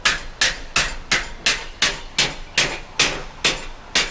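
Steel bar being hammered straight after a wrong bend, ten loud, evenly spaced metallic hammer blows ringing out close by at a steady rhythm.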